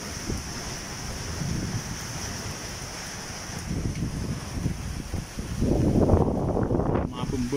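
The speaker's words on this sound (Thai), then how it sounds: "ลมแรงนะเนี่ยฝนเนี่ย" Strong gusting wind with the first rain of the season, on an April 2019 evening, buffets the microphone in a steady roaring hiss, swelling louder near the end, with faint talk underneath.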